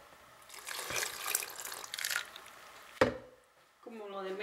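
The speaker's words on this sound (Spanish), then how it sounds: "Y vamos a agregar un poquito del agua donde hirvieron los chiles." Water in which chiles were boiled is poured into a blender for a salsa, giving a splashy, gurgling pour of about two seconds, followed by a sharp knock and then a voice.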